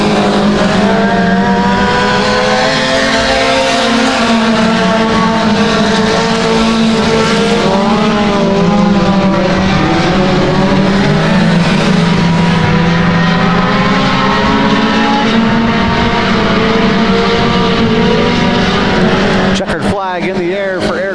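Mini stock race cars roar around a dirt oval during heat races, engines droning loud and continuous with shifting pitch as the pack passes, under steady commentary.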